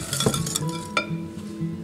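Utensil clinking and scraping against a mixing bowl while sugar is stirred for a Southern pumpkin cobbler, with sharp metallic clinks at the start and near the one-second mark over a steady scraping.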